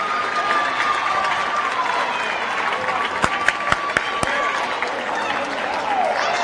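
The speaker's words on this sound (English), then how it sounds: "Why is our side clapping?" Basketball crowd in the stands at a high school boys' game, Cross County versus Armorel, with a steady wash of scattered clapping and murmur, a few sharp claps standing out briefly near the middle.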